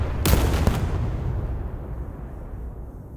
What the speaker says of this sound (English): The mortars! Yes, the mortars!